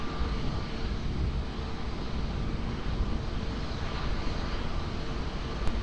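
An airplane lands on runway 20 at Lisbon Airport, heard as a steady, unbroken broadband roar with a deep rumble that holds at an even level throughout, with no voices.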